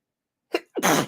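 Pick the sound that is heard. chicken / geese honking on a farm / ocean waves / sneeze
sneeze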